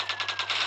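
Rapid bursts of automatic gunfire in a stickman police car mobile game rattle off in a quick, evenly spaced volley, sharp and fairly loud over a steady low hum.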